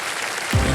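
Studio audience applause on a Hindi TV quiz show set, bursting in loudly about halfway through after a quiet stretch and continuing as a dense wash of clapping.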